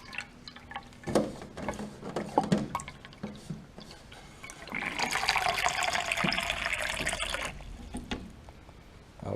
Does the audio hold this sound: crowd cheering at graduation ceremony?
no